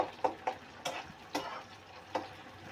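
Sliced onions frying in oil until brown for biryani, a steady soft sizzle broken by several sharp clicks and scrapes of a utensil stirring, quiet and close, with no talking.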